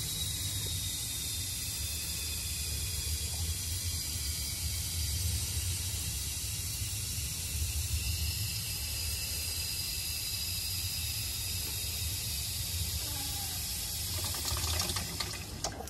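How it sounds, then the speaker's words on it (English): A hand pump forces fluid into a Mazda MX5 NC gearbox: a continuous liquid hiss and gurgle with a low mechanical rumble, steady throughout, with a few clicking strokes near the end. "this will start pumping the fluid"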